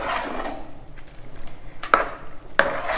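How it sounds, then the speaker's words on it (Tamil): Curd rice stirred in a pressure cooker, soft scraping and rustling with two sharp metallic knocks of the spoon against the pot near the end, close and moderately loud. "இப்போ இதை நல்லா கிண்டி விட்ருங்க."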